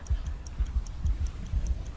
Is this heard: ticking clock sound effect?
yes